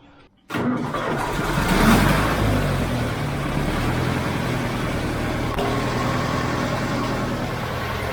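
A Towford 10 tractor engine is started by push button, firing up with a sudden loud start, then settling into a steady, rumbling run close by.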